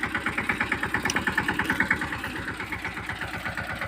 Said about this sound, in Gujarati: ઢગ ઢગ ઢગ અવાજ આવે છે ને ટ્રેક્ટરનો